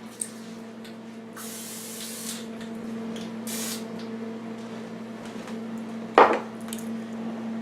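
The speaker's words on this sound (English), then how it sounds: "I'm going to go spray my second pan." Two short hissing bursts of cooking spray onto a baking pan, close by, followed later by a sharp clank of metal on metal, with no speech.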